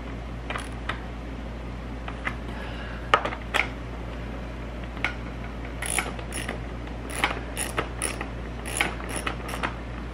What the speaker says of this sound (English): Let's tighten up the two 10 millimeter bolts.